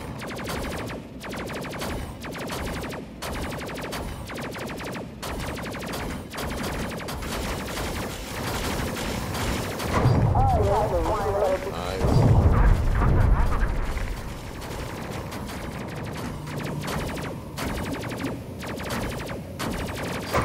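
Railgun fire from a focused ship barrage in the space game Space Crew, heard as a steady run of mechanical bursts and booms that swell louder midway, with a voice talking over it.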